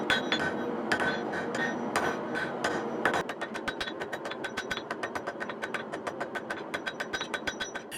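A hammer taps a steel Japanese kitchen knife blade on an anvil during forging, first in irregular clanging strikes, then a fast even run of lighter, ringing blows, close and alone.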